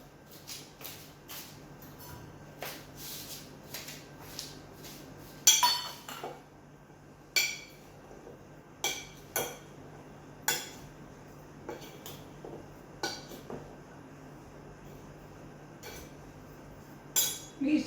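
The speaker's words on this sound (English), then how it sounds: "I'm using a ladle, clean dry ladle. We want to mix this whole mixture" A clean dry ladle scrapes and clinks against a bowl while mixing mango pickle masala, with sharp metallic taps coming in uneven bursts over a quiet background, close and with no talking.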